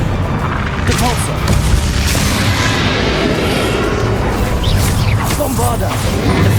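A Repulsor spell blasts out during Hogwarts Legacy gameplay, a loud booming burst with whooshing impacts amid dense, continuous combat noise and effects throughout.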